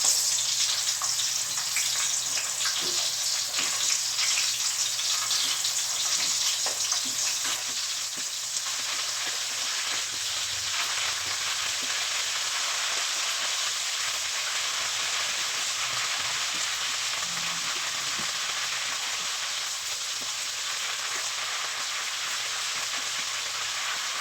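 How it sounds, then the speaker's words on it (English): Green onions, broken in half, fry in oil and produce a long, even sizzle like light rain, with occasional faint stirring sounds, steady and unbroken with no talking. "break those in half and throw them in my oil there. And I'm going to cook these around too"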